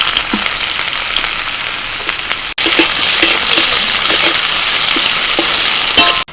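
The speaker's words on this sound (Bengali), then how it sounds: "তেলের মধ্যে ফোড়নে দিচ্ছি শুকনো লঙ্কা রসুন কুচি পেঁয়াজ কুচি" Dried red chillies, chopped garlic and chopped onion hit hot oil for tempering, giving a loud, steady, close sizzle with scattered pops, briefly cut off once partway through, with no talking.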